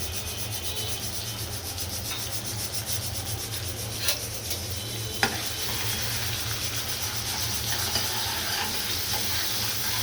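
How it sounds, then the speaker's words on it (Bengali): Spice paste fries in oil with onion and garlic in a wok, giving a loud, steady sizzle with continuous stirring and scraping and a couple of sharp clicks. "এখন পেস্টটা আমি বাদামি কালার করে বেজে নিব"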